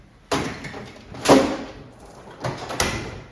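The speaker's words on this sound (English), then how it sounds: "Put that in the drawer with the rest of them." A drawer slides shut with a few knocks and thumps at close range, stowing a removed license plate, with no talking.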